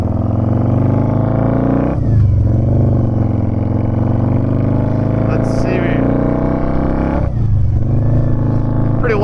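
A 2006 Harley-Davidson V-Rod with a loud exhaust pipe while riding in traffic, giving a deep, steady engine drone that rises and falls with two shifts, heard loud and close.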